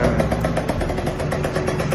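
A restored motorcycle engine runs steadily at close range, a loud continuous idle with an even rapid exhaust pulse and no voices over it.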